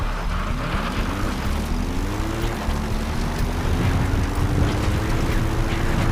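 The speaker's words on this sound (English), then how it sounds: "Support helicopter requested." A support helicopter in the video game Metal Gear Solid V: The Phantom Pain approaches with a loud, steady rotor and engine drone whose pitch slowly rises as it draws near, continuous throughout with no speech.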